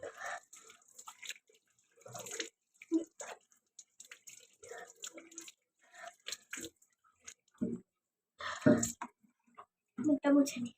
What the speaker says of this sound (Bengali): এবার এটা আমরা মুখটা ধুয়ে নেব। জলটা খুবই গরম।